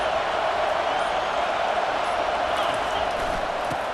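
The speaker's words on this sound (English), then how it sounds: "And the crowd really making some noise now, trying to help out this defense to get this stop near the goal line." A football stadium crowd roars steadily as fans cheer on their defense making a goal-line stand, a dense, continuous wash of noise with no break.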